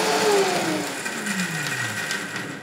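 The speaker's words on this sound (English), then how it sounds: "when we are going to blend them at a higher speed in a short amount of time, the cashew is gently going to turn into flour" A blender whirs at high speed grinding raw cashews into flour, a loud, steady motor roar with a falling pitch sweep as the load shifts, running alone throughout.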